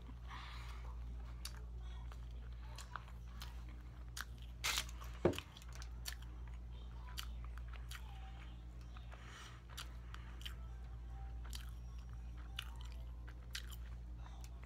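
An omelette sandwich is chewed close to the microphone in soft, wet, repeated bites and mastication clicks, with one sharper crunch midway, over a quiet low hum and no speech.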